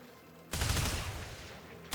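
A gun in the Warframe video game opens up after a short quiet lead-in, pouring out a loud, dense burst of rapid fire that tails off slightly, then a fresh shot hits right at the end.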